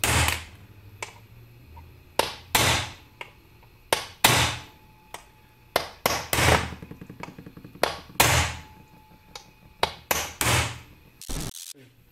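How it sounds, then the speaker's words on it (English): A steel punch is struck with a hammer against transmission bolts during teardown of a T5 World Class gearbox, giving a series of sharp, loud metallic strikes in irregular clusters, with short pauses between hits. "just shock the bolts loose, like with a punch, like this"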